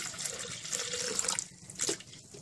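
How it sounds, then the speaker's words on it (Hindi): Water poured into a blender jug holding fresh mint leaves, a close, splashing stream that sloshes and gurgles, dips briefly, then returns with a final splash, with no voices. "साथ ही साथ पानी डाल दें"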